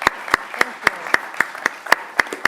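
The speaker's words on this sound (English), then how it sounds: "can we give a round of applause to our superintendent and our school board member, please?" A city council meeting audience applauds the superintendent and a school board member, heard as a slow, sparse run of sharp single claps at a steady beat, roughly four per second.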